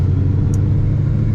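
Steady low engine rumble from a 900-horsepower Mustang cruising at night, a continuous loud in-cabin drone with no talking.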